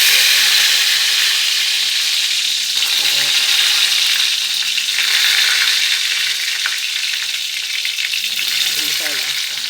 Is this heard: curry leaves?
yes